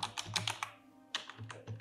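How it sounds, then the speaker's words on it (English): Computer keyboard keys are pressed in quick close bursts, a cluster of clicky taps, a brief pause, then another run of keystrokes, close and fairly quiet with no talking. "if I press like keyboard keys"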